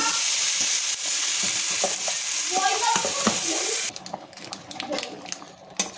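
Khichuri rice and vegetables stirred with a spatula in a pot, a dense hissing fry with scraping strokes that gives way to quieter, sparser clinks and stirs near the end.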